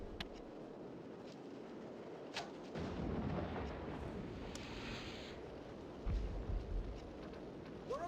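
Artillery cannons fire in the Warhammer: Dark Omen video game, with deep booming blasts and heavy rumbles. A louder cluster of shots comes partway through, and sharper cracks are scattered among them over a noisy battlefield bed.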